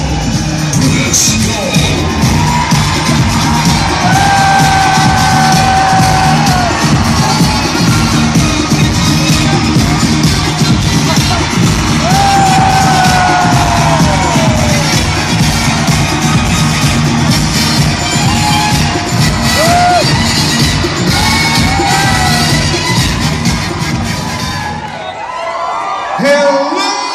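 At a disco reunion show with a Christmas theme, a packed crowd screams, whoops and cheers loudly and continuously for about 25 seconds, with a host's amplified voice over the din, before the noise briefly drops away.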